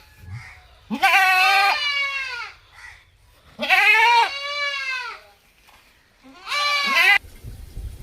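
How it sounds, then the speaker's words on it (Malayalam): A Malabari goat bleats loudly three times, long wavering cries separated by short quiet pauses, close by. "നല്ല സൂപ്പർ ആട് കേട്ടോ"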